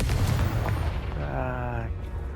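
Confringo fire spell blasting in Hogwarts Legacy: a dense, rumbling boom opens the clip, then a ringing, warbling magical tone rises and fades over the next second, with a player's voice loosely over it.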